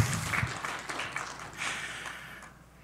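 Conference audience applauds after a BOSH Splitter software demo, a brief burst of scattered clapping of moderate loudness that fades out within about three seconds.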